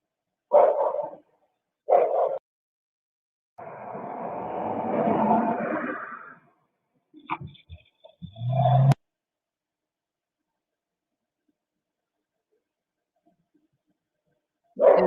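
Dogs bark in a few short separate bursts and one longer grumbling stretch, close and moderately loud, with silent gaps between them.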